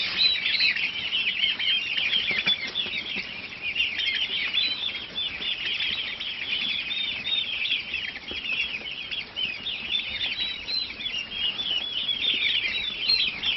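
Young turkeys on a poultry farm in Madaripur chirp and peep continuously in a dense, high-pitched chorus, steady and close throughout with occasional wing flutters and no talk.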